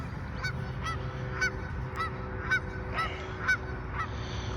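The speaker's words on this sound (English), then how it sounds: "he heard them honking at us" Geese honk repeatedly in a fairly regular series of short calls, moderately near, over a low steady background rumble.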